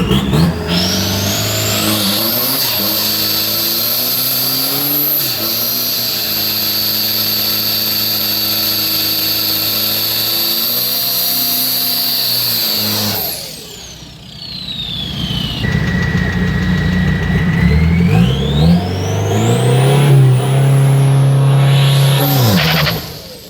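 A full-body Isuzu D-Max pickup on street tyres revving hard at a drag race practice, loud and close, the engine holding high revs, dropping briefly, then climbing again in rising sweeps.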